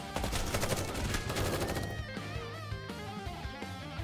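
Rapid gunfire barrage in the mobile shooter Goddess of Victory: NIKKE, dense and loud for about two seconds, then giving way to game music and effects.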